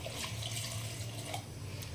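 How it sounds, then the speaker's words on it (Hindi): Water pours steadily into a pressure cooker holding chopped bottle gourd, a continuous close splashing rush with a faint low hum beneath, no voices. "थोड़ा सा डाल दूंगी पानी"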